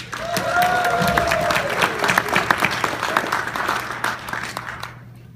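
Applause from a live audience greets a presenter named David at a speech, dense steady clapping that swells, then thins and tapers off toward the end, with a faint sustained tone underneath.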